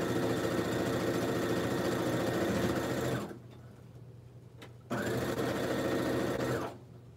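A sewing machine stitches quilt block fabric in two bursts of steady, close mechanical whirring, with a short quiet pause between them and a stop at the end.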